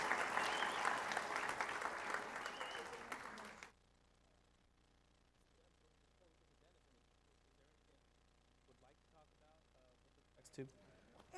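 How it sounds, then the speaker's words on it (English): An audience claps loudly for a few seconds, then the applause stops abruptly, leaving near silence with faint voices later. "Give her a round of applause."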